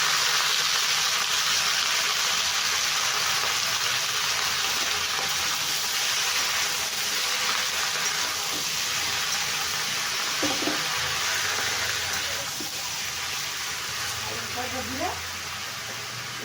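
Continuous loud hiss of spinach frying in a pan with mung dal, steady throughout, with occasional faint stirring and a voice briefly in the background.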